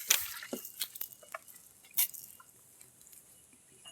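Water poured onto a hand outdoors makes a few quiet splashes and drips in short, irregular bursts, then thins to faint trickles.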